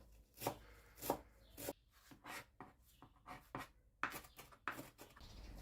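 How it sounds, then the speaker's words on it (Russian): A knife chops a small bunch of fresh parsley and dill finely on a board, an uneven run of soft, crisp strikes. The chopping is close and fairly quiet. "Далее беру небольшой пучок петрушки, можно взять немного свежего укропа и мелко измельчаю."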